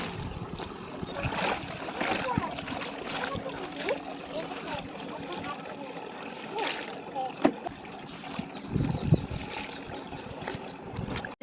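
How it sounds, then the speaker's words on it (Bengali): Clothes hand-washed on a stone with cold tank water, with steady splashing and scrubbing and occasional sharper slaps running throughout, close by, while a voice talks over it. "এত সুন্দর পরিষ্কার হয় জামা কাপড় এক দুবার ডলার দিলে কি সুন্দর ধপধপে পরিষ্কার হয়ে যায়"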